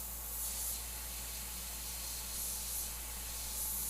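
Airbrush spraying paint freehand on a tribal skull design, a faint soft steady hiss with slight pulses as the trigger is worked, no talking.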